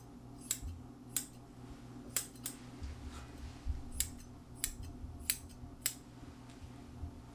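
Scissors snip repeatedly at the fur along the edges of a dog's ear during a mohawk trim, about nine crisp, close cuts in a loose, uneven rhythm over a faint low background hum.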